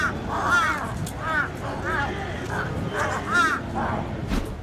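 Harsh, repeated caws from a crow in a parking lot near a small rat, coming in a rhythmic series of calls over a noisy background, with a voice talking over them.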